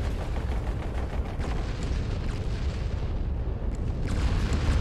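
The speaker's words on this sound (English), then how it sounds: "Look at the rockets! You see them? You see the rockets? They're just flying through the freaking air." Rockets streak through the air and blow up during a camp raid in Fallout 76, a dense, continuous rumble of booming blasts and gunfire-like cracks, loud and sustained, with no voices over it.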